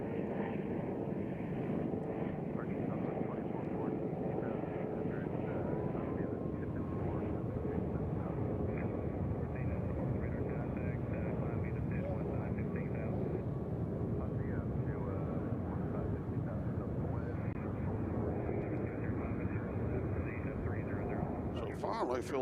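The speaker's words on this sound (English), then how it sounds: "I still hear a helicopter." A helicopter passing overhead outdoors near an airport, a steady loud rotor and engine roar that continues without break, with people talking underneath.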